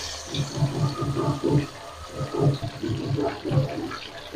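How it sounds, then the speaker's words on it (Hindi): Chira fish pieces frying in hot oil in a pan, a bubbling, crackling sizzle with a pulsing, uneven rhythm, moderately close and without talk. "ऑयल गर्म हो चुका है। बिस्मिल्लाहिर्रहमानिर्रहीम। मछली डाल देते हैं।"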